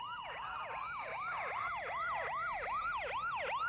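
Ambulance sirens in a 1989 anime wail in a fast, repeating rise and fall that continues steadily throughout, at a moderate distance and fairly faint.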